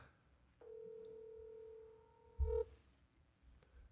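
On an outgoing phone call, a single steady ringback tone sounds for about two seconds and is cut off by a brief, louder clunk in a quiet room.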